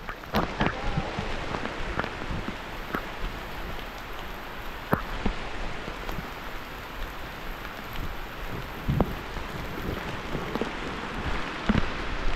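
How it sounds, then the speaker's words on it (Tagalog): Steady rain pours down with a constant hiss, and scattered louder drops and taps sound nearby. No one speaks. "Uy, yan ang ulan"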